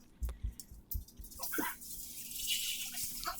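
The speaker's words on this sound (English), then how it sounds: "And then you'll want to add your 1 cup of buttermilk." Buttermilk poured into a pan of melting butter over medium heat: a few soft clunks, then a wet gurgle and a steady sizzling hiss that builds and holds, close by.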